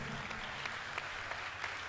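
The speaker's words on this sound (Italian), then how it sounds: "un applauso a Chiara Obino nel frattempo" An audience in a theatre applauds a champion athlete at a Christmas sports club event, a brief dense burst of clapping from many hands, steady and moderately distant.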